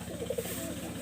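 Pigeon cooing from a pigeon loft, a few soft low coos in quick succession against steady background noise, no speech.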